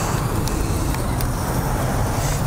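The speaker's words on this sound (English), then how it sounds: "I'm right next to a busy road." Steady traffic rumble from a busy road nearby, a continuous dense roar of passing cars with no distinct individual passes, heard outdoors beside an off-road track with no voices.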